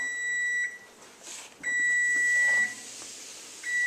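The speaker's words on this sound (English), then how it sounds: "Timer's just getting ready to go off." Kitchen timer beeping in a home kitchen while dinner cooks: three bursts of steady electronic tones, each holding for about a second, clear and fairly close, with faint background noise between them and no talk.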